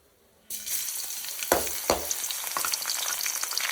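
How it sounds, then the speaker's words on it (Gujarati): Garlic hits hot oil in a kadai for a fenugreek-leaf sabzi tempering, setting off a sudden, loud, steady sizzle after a brief quiet, with a couple of sharp spatula knocks against the pan early on. "આપણે કઢાઈમાં તેલ લઈ લીધું છે ગરમ થઈ રહ્યું છે તેના અંદર આપણે લસણ એડ કરીશું પહેલાં"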